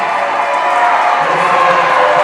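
A basketball crowd at a boys varsity high school game roars steadily after a foul call, a loud sustained wash of jeering voices.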